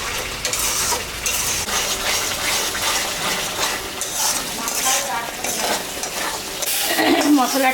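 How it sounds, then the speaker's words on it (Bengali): Spices with salt being stir-fried in a pan for a mrigal fish curry, a busy sizzle under repeated scraping and clinking of a spatula against the pan, loud and close throughout. "মশলাটা কষানো হয়ে গেছে,"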